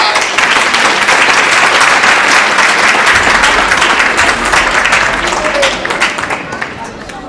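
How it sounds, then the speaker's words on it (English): A large audience at a students' speech competition final claps in a dense, loud, sustained round of applause that runs for several seconds before tapering slightly at the end. "let's give them one more round of applause"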